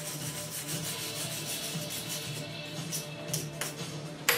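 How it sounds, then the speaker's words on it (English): A wire brush scrubbing a cooled metal Cobra logo, a continuous raspy rubbing that runs steadily, close and moderately quiet, ending with a couple of sharper knocks. "And then just take a wire brush and clean that off."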